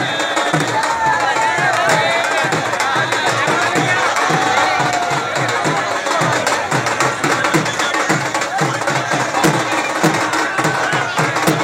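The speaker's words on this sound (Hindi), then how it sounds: "इस राम बारात में हजारों की संख्या में महिला व पुरुषों की भीड़ देखने को मिली" A crowd of thousands of men and women at a Ram wedding procession in Mathura, a loud, steady roar of voices and cheering with rhythmic beats running throughout.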